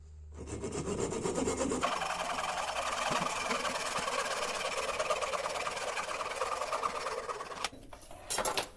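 A 20 mm diameter polypropylene pipe being sawn by hand, a steady, continuous rasping stroke noise that fills nearly the whole stretch, close and fairly loud, ending with a couple of brief scrapes.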